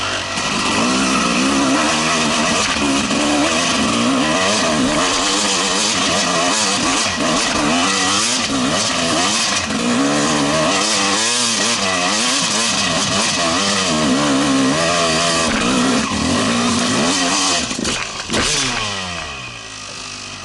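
Yamaha YZ 250 two-stroke dirt bike climbing a steep hill, engine loud and close throughout, revving hard with rising and falling pitch, then easing off near the end.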